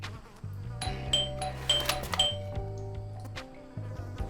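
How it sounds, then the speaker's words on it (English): A doorbell rings in the detective video game Blues and Bullets, with bright chiming tones over a low droning music bed and several sharp clinks spread across a few seconds. "Milton rings the doorbell"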